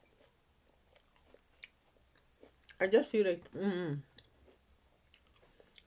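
Grapes chewed close to the mouth, with faint scattered wet clicks and crunches in the quiet, broken by a brief stretch of speech in the middle.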